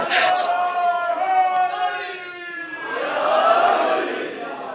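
A religious gathering's audience at a Muharram majlis loudly chanting slogans in unison, swelling voices rising, dipping briefly, then surging again in a full, reverberant crowd roar.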